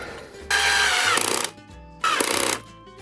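A power screwdriver drives screws to fix hinges onto a table, sounding in two loud, whining bursts of about a second each. Each burst ends in a stuttering clatter as the screw seats.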